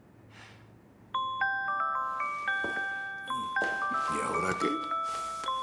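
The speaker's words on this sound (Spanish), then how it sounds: "¿Para eso era la alarma? Es para tomar mi medicina." A medicine reminder alarm rings with a run of bright electronic chime tones repeating in a steady pattern, loud and near, while a person speaks briefly before it starts.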